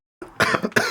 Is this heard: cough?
yes